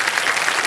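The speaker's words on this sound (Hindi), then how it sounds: "जोरदार तालियां बजाएं।" Studio audience on Kaun Banega Crorepati bursts into loud, dense applause, a brief, close, continuous roar of clapping.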